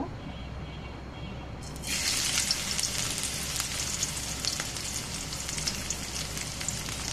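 Chopped onion hits hot oil in a pan with a sudden loud hiss, then keeps up a steady, bright crackling sizzle close to the microphone.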